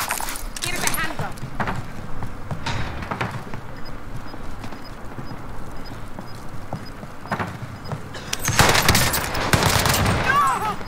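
Gunfire in Warzone's Rebirth Island, rapid bursts of shots and clattering that build louder near the end, with voices chatting over the action.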